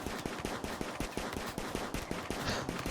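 Rapid pistol gunshots from a hunt in the video game Rimworld (Alpha 12) crack out in a quick, irregular volley of sharp reports over a steady game background, with no talking.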